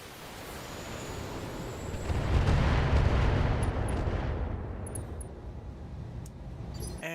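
Heavy artillery and weapon fire from giant battle mechs in the BattleTech video game, booming and rumbling continuously with a swell of sustained blasts in the middle, then a steady roar of distant fire and faint sharp impacts.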